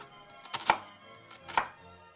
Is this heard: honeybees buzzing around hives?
no